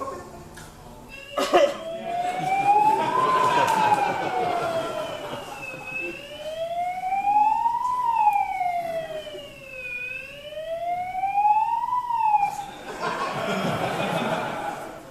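A wailing siren rises and falls in slow, repeating sweeps, fairly loud and close, with brief bursts of noise at the start and end.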